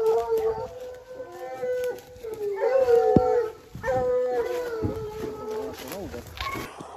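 A pack of about eight hunting dogs bays and howls continuously while chasing wild boar at a 2020 season opening hunt, several voices overlapping at moderate distance, with a voice also heard.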